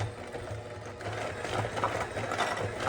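A mixer whirs steadily as an egg is beaten into cake batter, giving a quiet, continuous motor drone with faint rhythmic pulsing, close by and with no talk.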